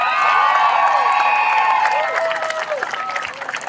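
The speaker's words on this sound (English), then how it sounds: "she deserves a huge round of applause for that" Crowd at a community rally applauding and cheering, with clapping mixed with whoops and high shouted voices near the start, the cheering easing off while the clapping carries on to the end.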